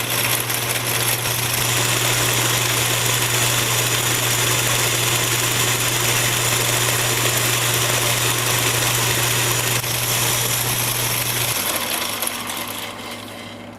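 A grinding machine runs steadily with a diamond wheel crush dresser at work, oil applied, giving a loud continuous mechanical hum and hiss with a low steady drone that drops near the end.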